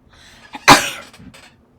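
A teacher lets out a single sharp cough, close and fairly loud, followed by a short fading breath, with no talk over it.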